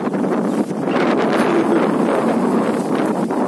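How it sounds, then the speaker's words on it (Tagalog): Strong wind buffets the microphone with a loud, continuous roar and gusty rumble, no voices present. "Grabe yung hangin dito guys."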